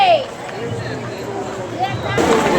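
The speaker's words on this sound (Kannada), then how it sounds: "ನೋಡಿ. ಕ್ರೌಡ್ ಎಷ್ಟೊಂದು ಐತೆ" Crowd at a temple fair in Ukkadagatri, Karnataka: a steady hubbub of many voices and background bustle, with someone talking over it close by.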